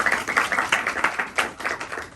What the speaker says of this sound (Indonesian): kasih tepuk tangan dong buat Aurel